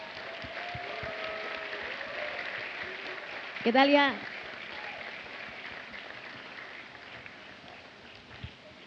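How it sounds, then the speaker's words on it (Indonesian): A school audience applauds after a musical drama performance, producing a soft, steady patter of clapping with a brief louder swell, heard faintly under a voice speaking. "Beri tepuk tangannya."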